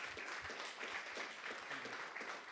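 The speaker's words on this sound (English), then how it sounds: "Give him a really big round of applause" A meetup audience applauds a guest speaker, a dense burst of clapping heard fairly quietly and continuously.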